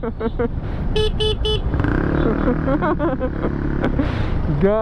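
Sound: street traffic with motorcycles and car horns

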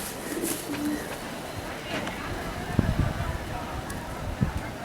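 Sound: racing pigeon cooing in loft

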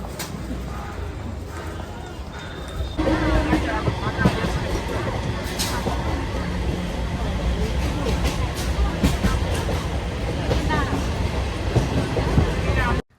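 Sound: train running on rails

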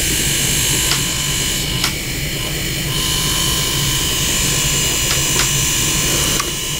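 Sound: 360 servo motor spinning

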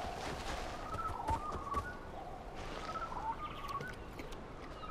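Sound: strange bird call, from video game Far Cry Primal

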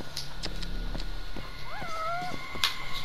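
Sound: cat meowing in video game

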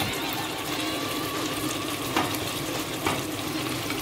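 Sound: sizzling as chopped tomatoes are added to the garden egg stew

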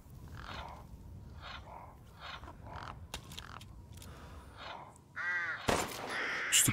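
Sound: crows cawing in the video game Resident Evil Village

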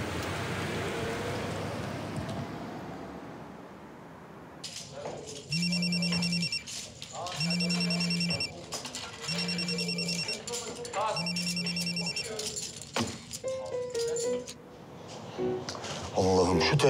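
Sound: telephone ringing

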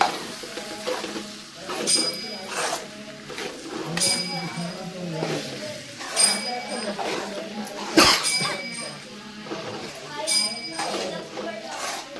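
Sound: stirring coconut into jackfruit curry in a pan

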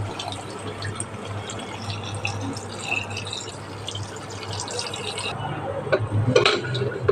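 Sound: water being poured into the pot for mutton head curry

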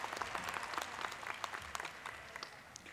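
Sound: audience applause at a commencement ceremony

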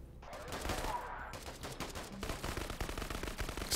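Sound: gunfire from the video game Krankenheit

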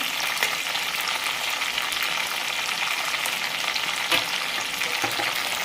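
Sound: green chilies frying in a pan

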